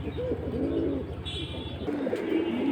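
Pigeons coo at a pigeon sale where silver, khaki and other high-flying breeds are offered in pairs, giving repeated soft rolling coos close by over a steady low background hum.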